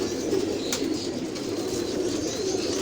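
Rampuri pigeons in a Lahore loft give low, rolling coos that run steadily over a constant noisy background, with one brief sharp click partway through.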